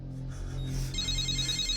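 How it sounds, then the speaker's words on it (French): A telephone rings with a bright electronic warble that repeats quickly over a steady low background hum, close and fairly loud, with no speech. "Mon téléphone a sonné."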